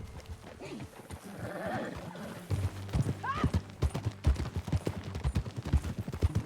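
Horse hooves in the video game Red Dead Redemption 2 clip-clop in a steady trotting rhythm, growing louder and more regular, with a brief horse whinny partway through and no speech.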